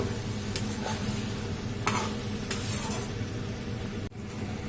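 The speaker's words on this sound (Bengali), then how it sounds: "চচ্চড়িটা ফুটছে, চচ্চড়িটা প্রায় হয়ে গেছে।" Fish curry sizzles steadily in a pan while a utensil scrapes and stirs a few times, close by and without talk.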